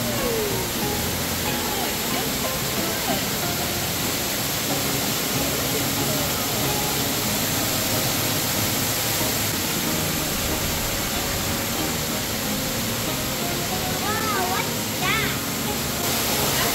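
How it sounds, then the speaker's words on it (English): A dense, steady roar of a large waterfall rushing inside a cave fills the space without letting up, loud and close, with faint voices briefly audible beneath it. "the sound of rushing water intensifies as you notice a large waterfall"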